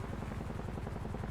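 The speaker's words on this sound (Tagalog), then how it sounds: "May helicopter." A helicopter drones overhead in a GTA roleplay game, with its rotor pulsing in a fast, steady low thump that sounds faint and distant throughout.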